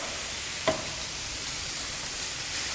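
Moroccan chicken with smoked paprika sizzling in a pan, a steady hiss with one brief clack as a piece is flipped, alone without talk.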